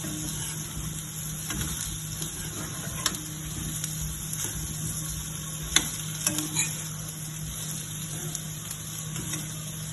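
Potato pieces frying with chilli powder in a pan on low heat, a steady close sizzle with occasional scraping stirs and light clinks, no talking.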